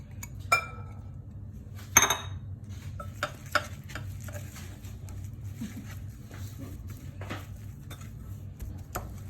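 Low-carb pizza dough ingredients being mixed in a small bowl, with a few sharp clinks of utensil against the bowl and soft scraping stir sounds over a steady low hum, no talking.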